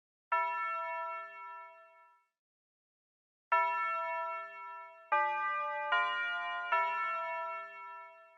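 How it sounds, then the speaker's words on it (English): A tubular bell rings clear, sustained metallic tones in a hip-hop beat, one long struck note, a pause, then four notes in quick succession at differing pitches, each ringing on, with nothing else playing. "And it's this tubular bell."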